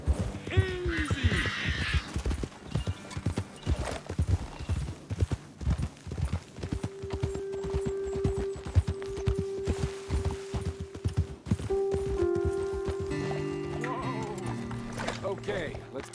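Hoofbeats from horses being ridden in Red Dead Redemption 2 thud in a steady galloping rhythm, fairly close, with a brief whinny near the start and a sustained musical tone layered over the later stretch.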